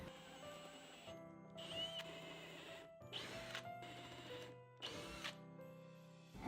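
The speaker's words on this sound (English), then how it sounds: "I'm going to drill 5/16 inch holes in the wood in the 2x4" A power drill boring 5/16 inch holes into a 2x4 wooden board, several separate bursts of whirring and grinding, each lasting about a second, separated by short pauses, close and fairly loud.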